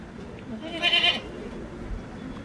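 A newborn goat kid lets out a single thin, wavering bleat about a second long, fairly close, over a quiet farmyard background without talk.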